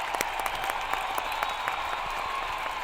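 Applause at a political rally in Macedonia: a crowd claps in a dense, continuous patter with a few sharper individual claps standing out, steady from start to finish.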